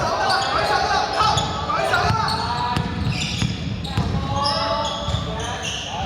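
Repeated basketball bounces thud on a court, irregular in rhythm, with voices chattering throughout.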